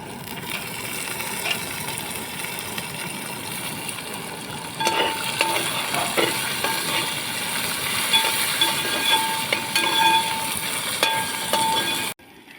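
Green chillies fry in a pan for curd rice, a steady hissing sizzle filling the clip, louder from midway, with scattered scraping and knocking from the stirring.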